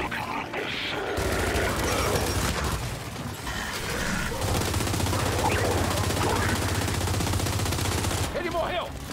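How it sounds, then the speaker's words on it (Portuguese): Dense, continuous bursts of rapid gunfire in the video game Gears 5 fill most of the clip, loud and close, with a steady low rumble underneath and brief pauses between volleys. "Ai, tô tomando muito tiro."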